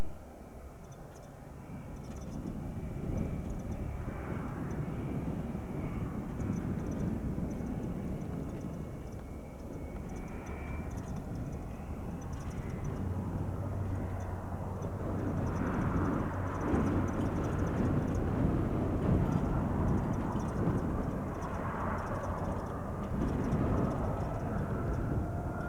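A fixed-wing aircraft, likely a private jet or general aviation plane, rolls for takeoff on runway 8 right at Spirit of St. Louis Airport, a steady, broad engine roar that builds slightly and holds for nearly half a minute with no talk.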